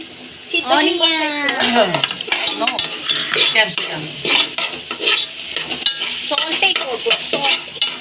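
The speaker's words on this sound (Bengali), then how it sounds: "এই যে দিয়ে দিচ্ছে পেঁয়াজ কলি" Spring onion stalks are stirred into eggs frying in a pan, giving a soft sizzle broken by repeated scraping and metal clinks of a utensil. Voices talk loudly over the cooking.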